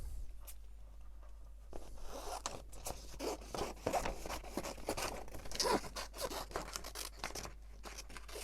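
Scissors snip out paper elements for Christmas tags, giving several close, crisp cuts and rustling paper handling with no talk.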